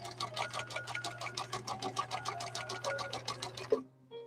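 A 1966 Husqvarna Viking 19E Special sewing machine stitches at a slow, even pace, its needle ticking in a steady rhythm for several seconds before halting with a small clunk and a faint hum.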